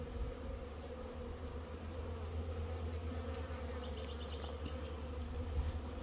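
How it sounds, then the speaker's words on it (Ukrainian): Steady, dense buzzing of many honeybees close by, a continuous droning hum with no talk over it. "Бджоли, а ось матка ходить."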